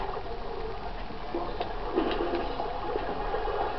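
Steady rushing water with a continuous splashing roar, even and unbroken, from a waterfall pouring into a basin nearby in the video game Madagascar.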